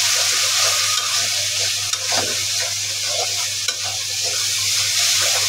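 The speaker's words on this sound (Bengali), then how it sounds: "চিংড়ি মাছটা একটু ভাজবো" Prawns sizzle steadily in a pan over already-fried onion, garlic and green chilli, with a constant crackling hiss and occasional stirring scrapes, close and loud with no talk.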